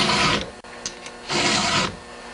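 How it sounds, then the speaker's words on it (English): A chainsaw chain is hand-sharpened with a file in two rasping strokes, each a loud, gritty scrape close by, separated by a short pause with a light tap. "when you're sharpening your chain, you want to keep the file level so that the teeth get sharpened evenly and straight"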